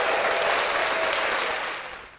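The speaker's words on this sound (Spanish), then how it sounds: "Aplausos, aplausos" An audience applauding during a talk, dense sustained clapping from many hands that holds steady and then begins to fade at the end, fairly close and loud.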